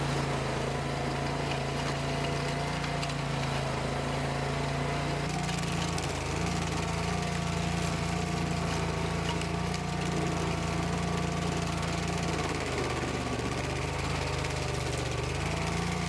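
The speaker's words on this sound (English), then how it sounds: "So here comes the stump grinder." A large stump grinder with big cutting teeth chews into a massive tree stump outdoors, its engine roaring loud and continuous with rough grinding texture and slight shifts in load.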